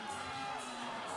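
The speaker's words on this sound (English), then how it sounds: "Now she can hear the crowd." Crowd cheering and whooping at a USA Climbing National Cup bouldering competition at Mesa Rim, a continuous, fairly distant roar of many voices with no pause.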